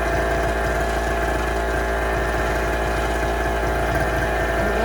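A small 0.7 kW portable generator engine runs steadily at working speed, producing a constant close mechanical drone with no pauses.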